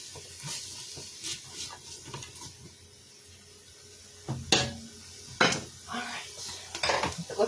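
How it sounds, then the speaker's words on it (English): Chicken sautéing in oil in a pot makes a soft steady sizzle, broken by scraping stirs and clinks of a utensil against the pot that get louder toward the end. "Get that sauteed up."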